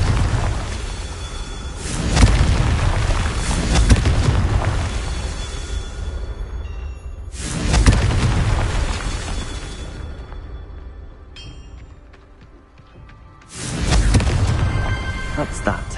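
Fire-spell explosions from the Confringo curse in Hogwarts Legacy, three loud booming blasts with rushing whooshes, spaced several seconds apart over a game soundtrack, with a brief shout among them.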